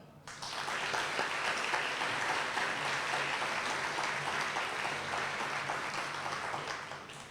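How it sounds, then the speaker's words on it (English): Steady, dense applause from a crowd at an elementary school ribbon cutting ceremony, beginning almost at once and holding at an even level throughout. "Let us give a round of applause for all of our wonderful kids at Hope."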